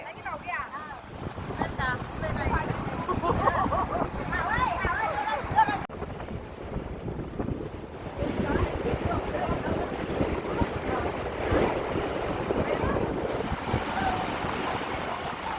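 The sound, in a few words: strong wind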